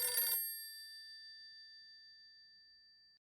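A telephone gives a single bright ring that rings out and fades slowly, heard alone in otherwise quiet surroundings.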